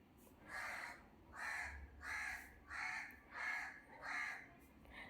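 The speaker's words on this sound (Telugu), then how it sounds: "ఏవో బర్డ్స్ అలా వినిపిస్తూనే ఉంటాయి" Six loud crow caws in a steady, evenly spaced series, fairly close, in a garden, with a low rumble of background noise beneath.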